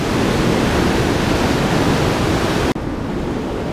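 Rushing water of the North Fork river swollen by heavy rain, a loud, steady broadband roar close by that drops slightly after a brief cut.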